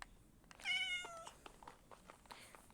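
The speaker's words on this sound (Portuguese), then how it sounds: "aqui é um gato." A cat in the Minecraft video game gives a single clear meow, short and fairly quiet, standing alone over a faint background of soft game noises.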